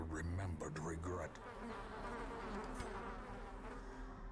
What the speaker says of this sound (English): if you're bothered by the sounds of mosquitoes, sorry?